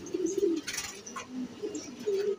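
Racing pigeons coo at the loft, several soft, low rolling calls repeating close by, with faint chirps and no speech.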